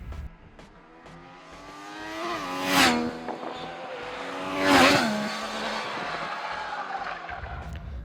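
Triumph Daytona 660 motorcycle engine under way, a steady harmonic drone with two strong swells as revs rise and fall, close and fairly loud, with no talk over it.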